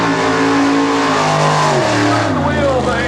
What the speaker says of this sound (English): The wheelbase factory experimental race cars in heads-up drag racing here at the 1998 Superstock reunion